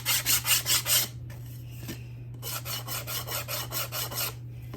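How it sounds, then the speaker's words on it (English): A small handheld sander rasps over the painted edges of a wooden plaque in short rhythmic strokes, with quieter scrubbing between bursts and a steady low hum underneath. "this little handheld sander here. And I'm just gonna rough up around the edges, kind of taking some of the paint off"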